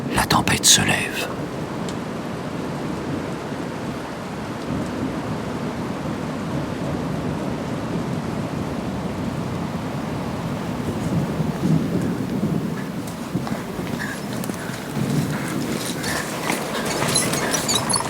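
Loud thunder crashes as lightning strikes close by during a nighttime rainstorm in a forest, followed by a steady, heavy roar of rain and rumbling that continues throughout.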